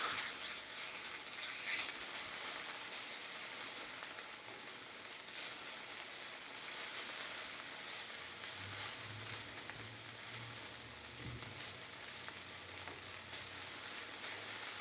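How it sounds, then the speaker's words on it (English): Vegetables sizzling steadily in a pan for ramen, a faint, even crackle that runs throughout with no talking. "Stir around my vegetables a little bit."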